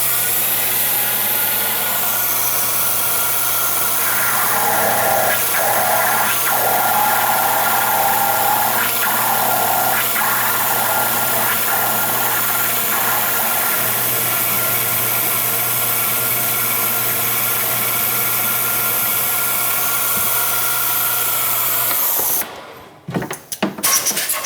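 A steady machine drone with a low hum runs close and loud while a number 3 drill bores tap-size holes for an 8-28 thread in a toolpost grinder wheel guard, then it cuts off near the end with handling clatter.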